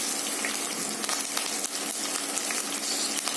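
Green chilies sizzle and crackle steadily in hot oil while a traditional raw banana tamarind stew is being prepared, a close, continuous frying hiss with no talking.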